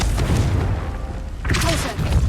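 A Confringo fire spell explodes in Hogwarts Legacy with a deep, heavy boom that rumbles on through the clip, over background game sound and a brief spoken voice.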